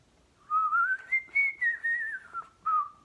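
A person whistles a wavering melody imitating bird song in short connected phrases, clear and close, with no other sounds around it.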